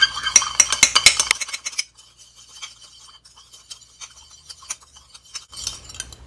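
Bamboo shoot and beef being mixed with oyster sauce and sake in a bowl, a burst of rapid clinking and scraping strokes, then a quieter stretch of lighter taps before the stirring picks up again, with no talking.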